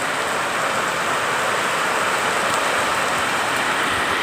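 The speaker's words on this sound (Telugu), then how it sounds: "ఉరుముతుంది, దొంద ఉరుముతుంది. అంటే అర్థం బాగుంది వర్షానికి. ఇగో ఫుల్ వర్షం." Heavy rain pours in a dense, unbroken wash of hiss, loud and even from start to finish with no distinct thunderclaps standing out and no voices.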